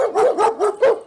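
A dog gives four quick, loud barks in close succession, evenly spaced and near, with nothing else audible.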